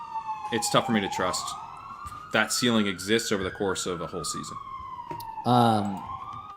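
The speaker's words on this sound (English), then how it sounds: "Sorry about the sirens here" An emergency siren wails outside in a long rising and falling tone, sitting clearly under someone speaking throughout a fantasy football podcast conversation.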